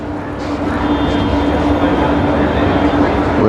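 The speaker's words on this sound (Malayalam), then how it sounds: "ലോകമാന്യത്തിലേക്ക് സൂപ്പർ എക്സ്പ്രസ് ആണ് കടന്നു വരുന്നത്" Super Express train pulling into a station bound for Lokmanya Tilak, a steady loud rumble with a sustained low hum filling the whole stretch, close by.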